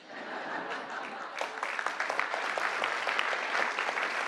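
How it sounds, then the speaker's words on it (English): An audience at a live event breaks into applause, a dense burst of clapping that rises quickly and stays loud and steady, with a chuckle and some speech mixed in. "How come he had no applause?"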